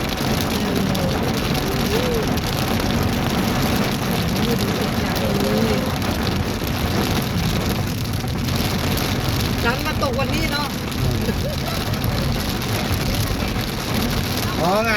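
Steady, dense rain hiss fills the scene, loud and constant, with faint voices and occasional chirps buried underneath.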